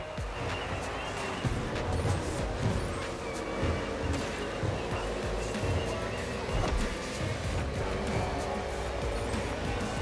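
NASCAR stock cars racing through a street circuit in Honolulu, Hawaii, in The Crew Motorfest, a steady roar of engines with passing cars and occasional tire noise, loud and continuous throughout.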